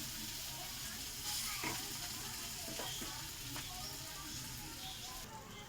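Ivy gourd (kundri) slices fry in a covered pan of oil, giving a steady soft sizzle throughout with a few faint stirring clicks and taps.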